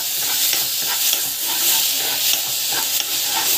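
A purée of spices and chana dal being sautéed in a pan, a loud close sizzle carried along by regular stirring scrapes with no voices.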